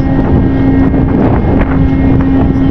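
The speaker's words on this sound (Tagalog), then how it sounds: "Malakas ang hangin." Steady, loud wind roaring across the microphone alongside a droning boat engine hum, with no pauses throughout.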